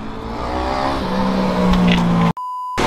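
Go-karts circling a karting circuit, a continuous buzzing engine whine with a steady pitched tone that holds and shifts slightly, loud and near, cut off abruptly into a short electronic beep.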